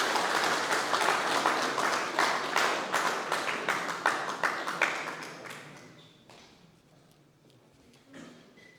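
Audience applause welcoming Dr. Nando Boda at a regional launch gathering in Mauritius, dense clapping that thins out after about six seconds and fades to scattered claps and room quiet.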